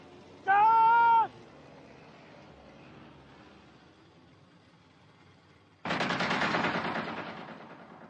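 Gunfire in a historical war film, a loud burst of rapid shots near the end following a brief high wailing cry and a quiet stretch.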